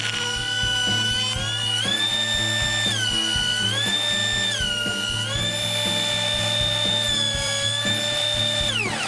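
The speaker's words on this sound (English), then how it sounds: "With my thickness planer, I'm going to plane down the parallel face" A thickness planer planing down a wooden board for a shelf, a loud steady machine whine with pitch steps as the cut loads and eases, running continuously and up close with no talk.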